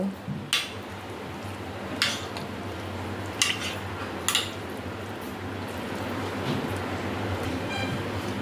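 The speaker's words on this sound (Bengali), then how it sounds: "সমস্ত ফ্রুট দিয়ে এবার আমি এগুলোকে ভালো করে কাস্টার্ডের সাথে মিশিয়ে নেব।" Fruits and dry fruits being mixed into semiya (vermicelli) custard, with a few sharp spoon clinks against a bowl spaced a second or so apart over a low steady background hum, no talking.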